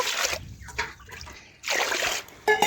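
Water is poured over rice being washed in a bowl, in two short splashing bursts with a quieter gap between them.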